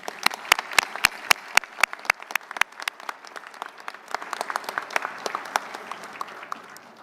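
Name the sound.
audience applause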